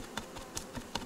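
Honey bees of Carnica and Buckfast strains at an apiary buzz in several short, faint bursts close by, with no voices.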